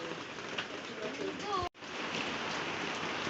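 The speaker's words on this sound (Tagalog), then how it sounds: "Umuulan." Steady rain falls over a farm field in the Philippines, a dense even hiss that holds throughout with a brief dropout partway, while a faint voice is heard under it.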